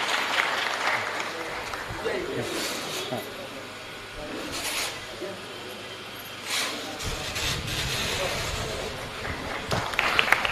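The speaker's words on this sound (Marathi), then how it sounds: "सर्वांनी जरा जोरदार टाळ्या वाजवायच्या आता." Guests at an inauguration ceremony for a service foundation clap in a loose, fairly quiet burst of applause, with a voice talking over parts of it.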